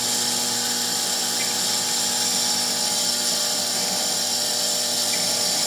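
A rotary spindle spinning at around 32,000 RPM while cutting a small triangle pendant gives a loud, steady high-pitched whine with no breaks.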